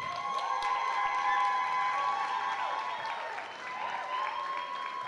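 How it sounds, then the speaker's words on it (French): At a gala honouring women, the audience applauds with cheers and high whoops over steady clapping, a lively, sustained crowd response that dips briefly before swelling again. "Donc, oui, on veut les applaudir."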